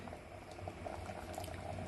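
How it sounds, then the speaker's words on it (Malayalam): A pot of wheat payasam with coconut milk bubbling steadily at a low boil, soft continuous popping and simmering close by, no voices. "ഇപ്പോ തേങ്ങയുടെ 2ാം പാല് ചേർത്തിട്ട് നല്ലോണം തിളച്ചിട്ടുണ്ട്"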